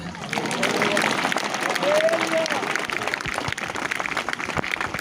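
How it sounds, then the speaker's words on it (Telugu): A church congregation claps hands together in a steady, dense patter, with voices of the crowd mixed in beneath the clapping throughout. "చప్పట్లు వినబడుతున్నాయి కానీ స్తోత్రాలు వినబడటం లేదండి"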